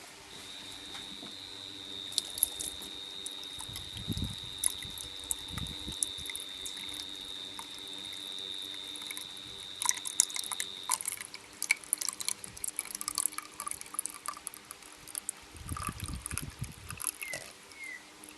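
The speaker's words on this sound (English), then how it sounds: "Now we can rinse it with some fresh water, and that'll just run out our drain hose too." Fresh water rinses through a Subaru EJ engine cooling system and drains out a hose, a faint trickle and drips with a steady tone early on, then louder splashing bursts near the end.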